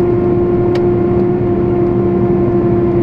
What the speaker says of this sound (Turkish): Motor sesinin bu kadar bağırmasının sebebi vites, hem motor freni